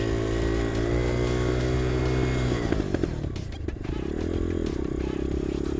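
A dirt bike with a throttle problem rides through traffic, its engine droning steadily and loud up close, then briefly dipping and clattering before the note settles and picks up again.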